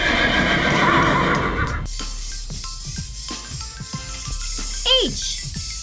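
A brown horse whinnies loudly near the end, after a rush of hissing noise and a few soft clip-clop sounds, with a voice speaking in the background.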